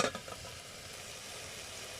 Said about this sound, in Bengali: আর একটু নেড়ে দিলাম সবজিটা।